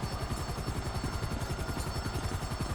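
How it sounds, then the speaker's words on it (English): A white Frogger helicopter with its spotlight on, in the GTA V video game, gives a steady, close rotor chop that pulses evenly throughout, loud and alone with no voices. "the crew will encounter a unique white Frogger helicopter with its spotlight on"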